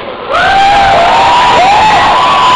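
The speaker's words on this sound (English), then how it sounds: "Can I have a proper cheer?" A school audience at a stand-up comedy show breaks into loud cheering after a brief quiet moment, with high whoops and shouts rising over the crowd roar.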